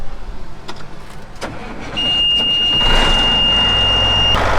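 A farm tractor's engine cranks briefly and catches, then settles into a steady, loud mid-pitched idle with a sustained high whine over it, heard up close in an Iowa field before cultivating.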